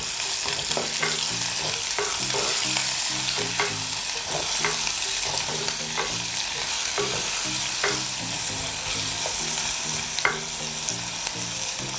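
Chopped ingredients for a fish curry sizzle in a hot pan with a constant bright frying hiss, punctuated by rhythmic stirring scrapes and taps, and no one talking.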